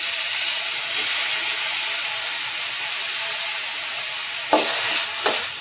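Tomatoes sautéing with onions in a pan give a continuous close, loud sizzle and hiss, and two sharp stirring scrapes come near the end. No one speaks.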